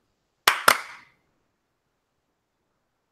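Two sharp hand claps in quick succession, loud and close with short ringing decay, made for syncing a podcast recording, then near silence with another faint click at the very end.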